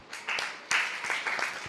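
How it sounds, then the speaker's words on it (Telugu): Congregation clapping during a church sermon, fairly quiet and in short bursts, swelling and dipping over a couple of seconds with a few distinct individual claps. "చప్పట్లు కొట్టండి"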